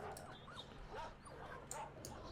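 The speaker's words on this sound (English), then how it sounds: "Seems like there's a lot of dogs up ahead" Dogs in S.T.A.L.K.E.R. Shadow of Chernobyl yip, whimper and bark in several short bursts somewhere ahead. The sound is faint and sits in a noisy in-game backdrop.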